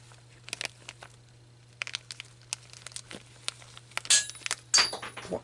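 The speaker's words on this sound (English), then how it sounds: "I just dropped a washer on the floor" A metal thrust washer from a Tecumseh Peerless transmission hits a shop floor with two sharp, ringing clinks close by, following quiet handling rustles over a steady low hum.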